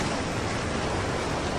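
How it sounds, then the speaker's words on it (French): Ocean waves surge in a steady, dense wash of broadband noise that fills the whole moment without pause, loud and close, with no voices over it. "Oh non, les vagues."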